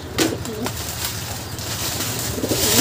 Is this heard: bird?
yes